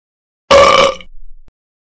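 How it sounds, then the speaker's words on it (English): A single loud burp erupts in a classroom, a sharp throaty blast that trails off into a softer rumbling tail, with silence on both sides. "how dare you burp in class?"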